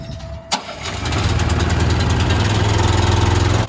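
A John Deere tractor engine is cranked with choke and gas and catches, settling into a loud, steady, rhythmic idle that runs close and alone.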